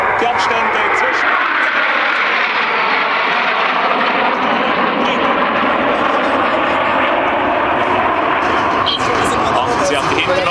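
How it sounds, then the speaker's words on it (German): The Patrouille Suisse jet formation roars past at about 800 km/h at the ILA air show, a loud, broad, sustained jet rush that swells and holds throughout, with an announcer talking over it. "Das Team im Anflug in der Figur Doppelpfeil mit einer Geschwindigkeit von 800 Stundenkilometer"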